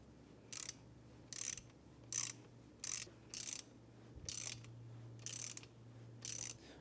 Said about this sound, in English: Put your bolts back on here.